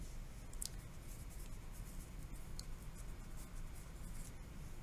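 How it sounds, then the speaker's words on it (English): Pen writing names by hand on paper, a soft continuous scratching with brief strokes and light taps, quiet and close with no voices. "I'm going to write their names."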